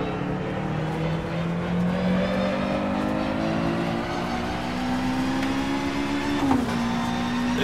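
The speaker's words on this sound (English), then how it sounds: "This car is challenging to drive in this game, man." A race car engine in the rFactor 2 racing simulator drones loudly and steadily, its pitch climbing gradually as it accelerates, with a brief shift blip near the end and no talking.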